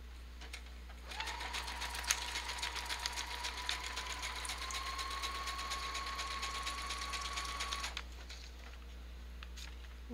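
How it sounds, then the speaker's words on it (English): A sewing machine zigzag-stitches taped paper scraps onto a junk journal page, making a steady, rapid mechanical whir with fast regular ticking for about seven seconds before stopping, recorded close and alone. "let's sew them down. I guess I'll keep it on zigzag"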